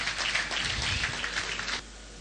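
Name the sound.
audience applause for Professor Pat Utomi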